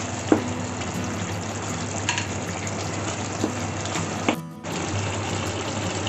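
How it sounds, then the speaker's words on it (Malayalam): Kerala-style beef stew being stirred in a pot after coriander leaves go in: a continuous dense bubbling hiss, close and steady, with a few soft knocks of the spoon and a brief dip before the simmer resumes. "ഇനി നമുക്ക് ഇതിലോട്ട് മല്ലിയില ഇട്ട് കൊടുക്കാം. നന്നായിട്ടൊന്ന് ഇളക്കി കൊടുക്കാം."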